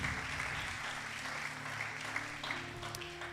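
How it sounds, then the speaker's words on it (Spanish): Church congregation applauding during a sermon, a soft, continuous patter of clapping at moderate distance with sustained musical tones humming underneath. "Démosle un aplauso a eso porque ya hay paz, hay descanso."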